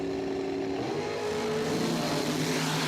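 A blown 600 cubic inch Chevrolet dragster at a drag strip: a continuous heavy engine roar with a rising pitch, steady and loud throughout, heard at a moderate distance.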